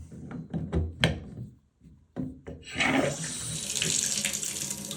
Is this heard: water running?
yes